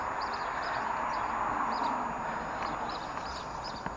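Road traffic outside a spring front garden gives a steady, broad rushing hum throughout, moderately distant, with faint birds chirping on top.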